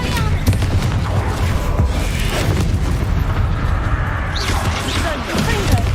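Confringo fire spells blasting in the Hogwarts Legacy video game, a dense barrage of loud booming explosions and crackling impacts running continuously with no pauses.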